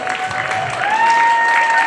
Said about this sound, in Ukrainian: Оплески, оплески, друзі